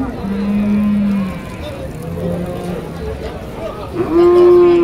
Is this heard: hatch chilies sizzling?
no